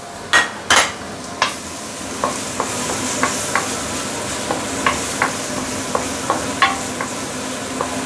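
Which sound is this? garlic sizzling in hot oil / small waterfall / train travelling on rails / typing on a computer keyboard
garlic sizzling in hot oil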